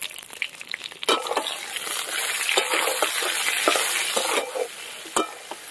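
Cut eggplant with cumin, salt and turmeric frying in a hot pan, a steady loud sizzle broken by scraping stirs and clacks of the spatula, no voices.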